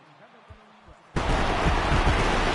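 In the MLB The Show 18 baseball video game, a home crowd erupts into a loud, sustained roar of cheering partway through, following a quieter stretch with someone commentator's voice and a few dull thumps.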